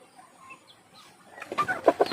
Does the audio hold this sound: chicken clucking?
yes